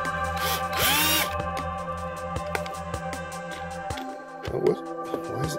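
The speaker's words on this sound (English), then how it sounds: "Look out, we're using power tools." A cordless power drill whirs in short bursts while an Atari self-winding joystick is being opened, with high-pitched motor spin-ups near the start and brief clicks and handling noises afterward.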